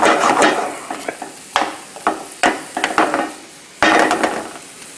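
Ham and mushrooms sautéing in a pan, bursts of sizzling mixed with repeated wooden scraping and knocking as the food is stirred and tossed, loud and close with short pauses between strokes.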